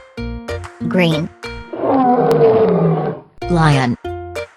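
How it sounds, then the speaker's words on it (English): A cartoon lion lets out one long, loud roar lasting about two seconds, with a cheerful kids' tune playing before and after it. "Lion."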